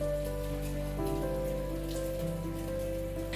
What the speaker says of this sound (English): a sudden rain has made the whole villa even more picturesque